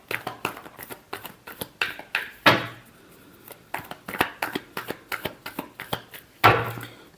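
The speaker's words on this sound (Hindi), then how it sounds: "last shuffle" Tarot cards being shuffled by hand make a series of quick, close riffling and flicking bursts in an uneven rhythm, with two longer cascading riffles standing out.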